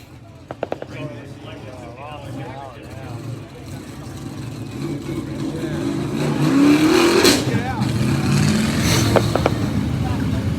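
Modified race cars roar around Grandview Speedway, engine noise building from a distant drone to a louder passing rush, with a race announcer talking over it throughout.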